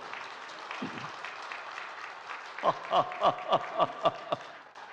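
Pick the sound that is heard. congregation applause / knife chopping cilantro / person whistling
congregation applause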